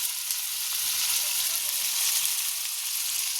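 Steady, dense sizzling of pangas fish frying in a pan, a continuous crackling hiss with no talking.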